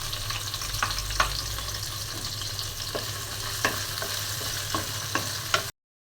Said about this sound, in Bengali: তেলটা গরম হয়ে গেছে, আমি পেঁয়াজ কুচি দিয়ে দিচ্ছি।